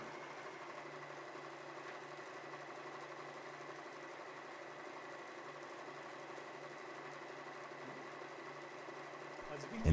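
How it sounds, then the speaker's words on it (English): A W6 N 1615 sewing machine stitching closed a tear in fabric, producing a steady, quiet mechanical hum with fine rapid needle clatter, close and continuous throughout. "press the pedal to start sewing. The machine sews 3 stitches to the right and 3 stitches to the left."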